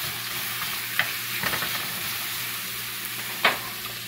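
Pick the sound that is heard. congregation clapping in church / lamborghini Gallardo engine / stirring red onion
stirring red onion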